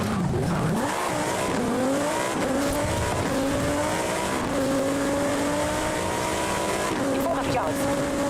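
A Golf R races in Forza Horizon 5, its engine droning loudly and shifting pitch through gears while the tires squeal and skid, all under an ongoing voice.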